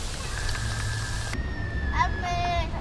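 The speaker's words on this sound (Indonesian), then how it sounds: "Hujan enggak berhenti berhenti." Heavy rain drums steadily on a Borneo 6 tent as a broad, continuous hiss with low rumble, while a few faint voices and brief tonal sounds come through near the end.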